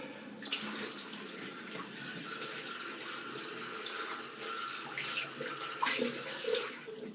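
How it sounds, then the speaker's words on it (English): Water runs steadily from a tap, a constant hissing splash with slight shifts in flow and no voices. "Excuse the water noise."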